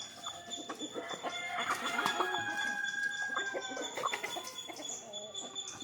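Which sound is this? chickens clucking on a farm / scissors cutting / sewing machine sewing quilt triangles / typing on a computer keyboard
chickens clucking on a farm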